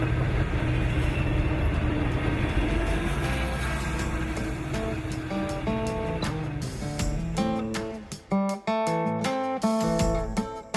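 A freight train passing a railroad crossing in Chesterton, Indiana gives a loud, steady rumbling roar that continues throughout, with tonal horn-like notes in the second half.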